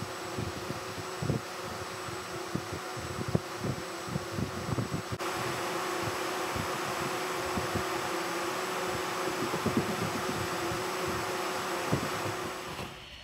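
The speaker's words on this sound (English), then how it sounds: "I've been engraving with this laser for a couple days now, currently working on a coaster." An Ortur Laser Master 2 laser engraver working on a coaster gives a steady, moderately loud whir with fan-like hum and faint ticking, continuous throughout with no talking.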